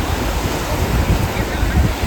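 Sea waves wash onto a clean Konkan beach in a constant loud roar of surf, mixed with wind buffeting the microphone.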